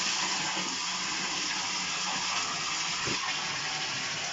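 Water steadily gushing as it fills an IBC tote being converted into a fish tank, a constant broadband rush that stays loud and even throughout with no talking.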